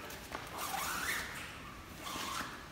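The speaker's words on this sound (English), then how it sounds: "Then we have the zipper." A zipper on the shower enclosure of a self-built off-road Toyota Hilux camper is drawn in two close, rasping pulls, the first longer and the second shorter, with no talking over it.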